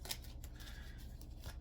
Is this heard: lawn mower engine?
no